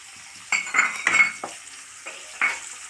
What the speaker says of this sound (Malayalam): ഒരു 4 വെളുത്തുള്ളി ചെറുതായി അരിഞ്ഞത്, നാല് വറ്റൽമുളക്. ഇതെല്ലാം കൂടി ഒന്ന് ഫ്രൈ ആവട്ടെ.